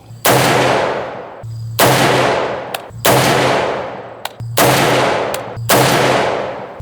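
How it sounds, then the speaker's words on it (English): Five loud, sharp reports from an unsuppressed Ruger SR762 rifle with a 16-inch barrel, firing 150 grain full metal jacket Lake City rounds, spaced about 1.4 seconds apart, each followed by a long echoing decay. "Ruger SR762 16-inch barrel, firing 150 grain full metal jacket, Lake City ammunition, 5 rounds,"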